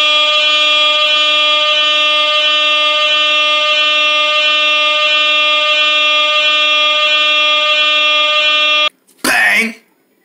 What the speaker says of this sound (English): Do I got time for this air horn?